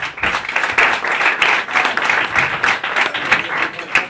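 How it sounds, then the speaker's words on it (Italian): Audience applause at the Miss Azzurra Napoli beauty pageant, held around a Napoli–Udinese football match, in the 2011–2012 season. Dense, steady clapping from a crowd carries on loudly through the whole stretch, with a few faint voices underneath. "Quindi la quarta classificata, facciamo un applauso, è Anna Vuotto."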